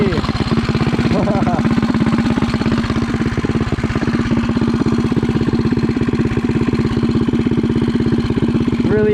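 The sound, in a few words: Megamoto motorcycle engine running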